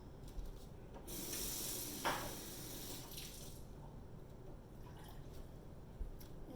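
Water for simple syrup is poured into a measuring cup alongside sugar, heard as a close, steady splashing stream for about two seconds, followed by faint trickles and small knocks in a quiet kitchen.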